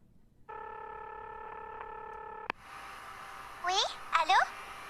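Internal school telephone line rings with a sustained electronic tone that cuts off abruptly, followed by faint room noise and brief chirpy voices at a distance.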